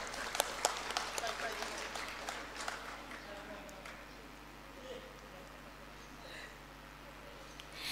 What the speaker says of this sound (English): So please give a big round of applause for Maivam Bemcha.